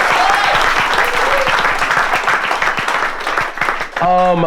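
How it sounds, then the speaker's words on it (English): Wedding guests at a toast give a loud round of applause, with a voice talking through it and clapping dense from start to finish. "big round of applause"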